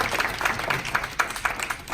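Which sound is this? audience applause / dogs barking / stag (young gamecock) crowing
audience applause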